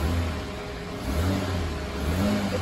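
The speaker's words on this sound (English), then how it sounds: "now just give it a little rev and just see how it works with the engine running." A car with a stiff accelerator pedal is revved lightly while running, the engine note rising and falling in a couple of gentle swells over a steady idle, close by and with no talking.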